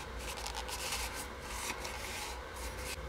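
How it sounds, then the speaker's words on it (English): A rag rubbing and wiping inside the oil filter housing of a Lexus IS250/IS350, a close, continuous soft scrubbing and scraping that goes on steadily without pause. "Take a second to kind of wipe out the inside of this filter housing"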